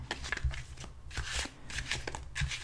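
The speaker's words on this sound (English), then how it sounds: "I'm going to give the cards a good shuffle." Tarot cards are shuffled in quick bursts, a close, crisp riffling and flicking repeated several times with brief pauses between, quiet and intimate with no talking.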